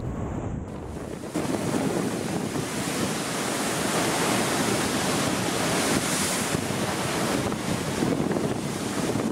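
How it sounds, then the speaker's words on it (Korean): Ocean waves crash against the rocky shore at Yeonggeumjeong pavilion in Sokcho, a loud, continuous roaring surge with heavy wind buffeting the microphone throughout. "정자 위에 섰더니 천둥처럼 울려 퍼지는 파도 소리가 온몸으로 느껴졌어요"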